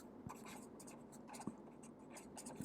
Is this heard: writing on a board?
yes